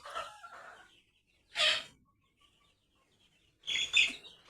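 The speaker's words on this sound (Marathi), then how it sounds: "एक कोंबडी इथं वर चढली" A hen climbing up to lay an egg on a goat and poultry farm gives three short clucking bursts separated by quiet pauses, close by with no talking.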